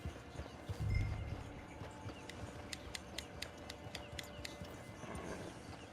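Red Dead Redemption Online horse hooves clop along at a walking pace amid outdoor ambience, with faint ticking clicks partway through and a low thump near the start.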